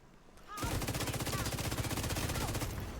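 Rapid automatic gunfire from The Division 2 video game, a steady loud burst of evenly spaced shots starting abruptly and running continuously to the end.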